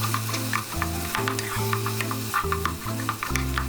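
Beef mince fries with curry powder in hot oil, giving a continuous close sizzle with scattered crackles and stirring scrapes, overlaid by steady low tonal notes that change pitch in blocks.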